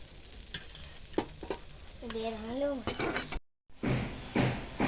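Sizzling fried vegetables are stirred and scraped in a wok with several quick metallic scoops and clinks after the gas is switched off, a brief whistling tone, then a short silence before more sizzling.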